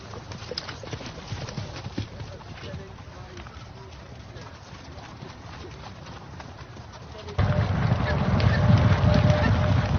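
Racehorses trotting in England, with a steady clip-clop of hooves under a continuous background, joined by pigeon-like cooing; the sound grows louder and fuller for the final few seconds.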